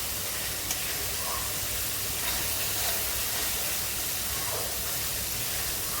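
Spice paste sizzles and spits in hot oil for a knife fish kaliya, a steady hissing fry with faint crackles throughout and no talk.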